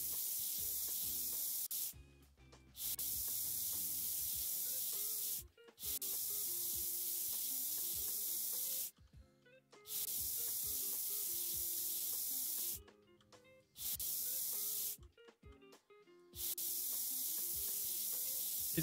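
Long bursts of airbrush spray painting on a model in the game Model Builder, a steady bright hiss repeated five or six times with short silent gaps between passes.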